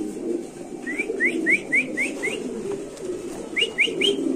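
White Bombay pigeons at a pigeon market coo in a steady low murmur, while a quick series of bright rising chirps repeats twice over it, with no talking.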